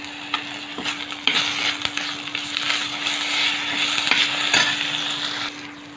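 Ginger garlic paste fries in a pan with a close, bright sizzle while a utensil stirs it, and scrapes and taps break the steady hiss at intervals. No one speaks.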